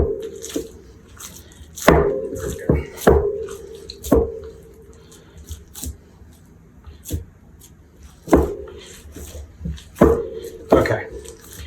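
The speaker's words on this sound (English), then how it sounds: "Let's turn it over and get that flour and all those seasonings mixed in." Sausage ball dough worked by hand with flour and seasonings in a bowl: irregular close knocks and soft squishy pats, a few sharp clanks spaced every second or two over a quiet room.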